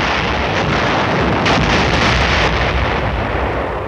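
Field artillery guns pounding enemy positions during the Korean campaign, heard as a dense, continuous wash of heavy rumbling booms with a brief louder surge near the middle, with no speech.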